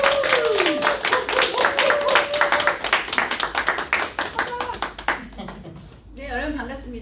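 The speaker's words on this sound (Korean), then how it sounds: "임소정 그룹장님을 큰 박수로 모시도록 하겠습니다." A crowd at an event claps to welcome a speaker, a dense round of applause that gradually thins into scattered claps, with a voice and background murmur near the end.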